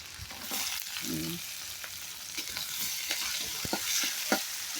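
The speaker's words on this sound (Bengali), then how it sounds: "তো এইগুলো ভাজা ভাজা হবে ভাজা ভাজা হতে থাক" Garlic and chopped onions fry in a pan for a village-style beef curry, giving a steady broadband sizzle broken by scattered clicks and scrapes from stirring, at moderate level with no talking.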